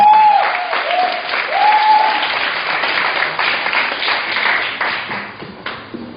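Applause from a church congregation at a young adults' church service, steady and full clapping across the whole stretch, with a brief tonal voice-like sound near the start before the clapping carries on alone.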